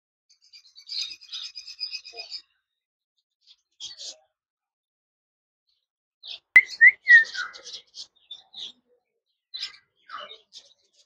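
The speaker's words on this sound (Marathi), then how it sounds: "पक्ष्यांचे आवाज" Small birds, sparrows among them, give scattered high chirps and thin whistles in short bursts separated by quiet gaps at an outdoor coastal spot in Sindhudurg, with one sharper, louder call partway through.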